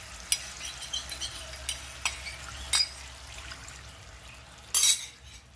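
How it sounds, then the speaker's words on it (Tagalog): Oyster sauce thinned with half a glass of water bubbles in a pan with cream dory fish, giving a faint, steady simmering hiss broken by a few light utensil clicks and one brief louder scrape. "Kumukulo na po ang ating oyster sauce."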